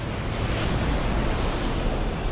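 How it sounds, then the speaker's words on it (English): Main cannon of a ship firing in a video game, a heavy, continuous low rumbling blast that fills the whole moment with dense roaring noise, loud and unbroken. "That was the main cannon."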